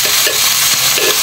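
Ground beef sizzling loudly in a frying pan close by, a dense hiss with brief stirring scrapes over about a second.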